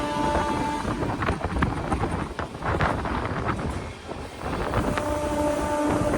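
Continuous rumbling and rattling of a moving train approaching Gorabanda station, heard from inside a general compartment with a windy rush, fairly loud and unbroken.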